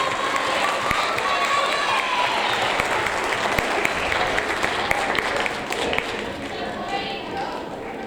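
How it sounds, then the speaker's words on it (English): Sustained round of applause from a school audience at a sixth grade awards ceremony, dense steady clapping that holds loud throughout with a few voices mixed in. "One more round of applause, please."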